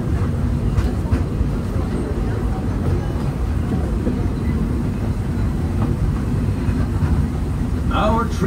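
Walt Disney World Railroad train running at Magic Kingdom, a steady loud low rumble of the moving cars with faint rail clatter throughout.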